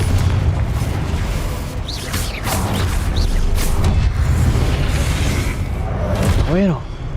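Confringo blasting spell explosions in Hogwarts Legacy, loud rolling booms with whooshes and crashes throughout, a voice speaking over the din.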